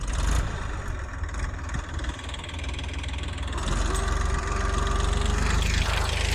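A tractor engine runs steadily on a farm field where cow-dung manure is being spread, a continuous mid-low rumble that grows louder partway through.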